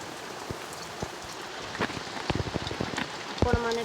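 Rain falls on a village, a steady patter of drops on surfaces with sharper nearby drips and splashes scattered through, moderately loud and without talk.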